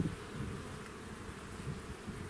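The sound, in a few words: bees buzzing while being moved between hives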